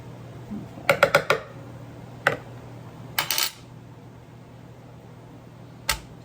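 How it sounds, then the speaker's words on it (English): A spoon scraping and clinking against a glass canning jar overfilled with spicy pickled cauliflower: a quick cluster of sharp metallic clicks, then scattered single taps, close and crisp over a low steady hum, with no talk. "Get a spoon and get some of that out."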